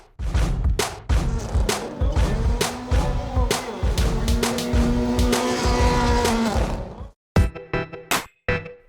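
Race cars drift at a gymkhana and drifting competition at a motoring festival. A loud engine roars close by with sustained tire squeal, then breaks into sharp revs and bursts near the end.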